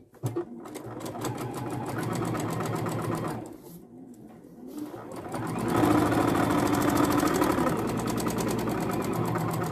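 A sewing machine stitches fabric with decorative thread in the bobbin, a steady fast mechanical whir that pauses briefly mid-way as the machine stops at a corner, then resumes louder and busier.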